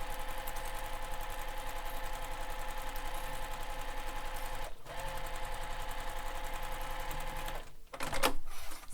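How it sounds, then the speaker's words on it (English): A sewing machine runs steadily, close and clear, as it stitches the short edges of a backpack, with a brief pause midway and a short clatter near the end. "We're sewing the short edges at this moment."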